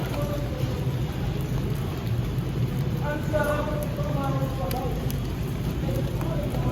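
Steady rain pouring down with a constant hiss on a subway slab rebar installation site, faint voices murmuring underneath.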